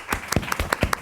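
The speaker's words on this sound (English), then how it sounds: "A warm round of applause for our speakers." Brief burst of audience applause for the speakers at a panel discussion, a handful of distinct, close, sharp claps in quick succession.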